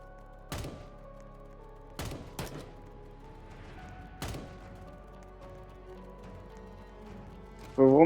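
Turret gunfire in the video game Bake or Die, a few sharp separate shots spaced seconds apart over a low game hum, with a louder burst at the end.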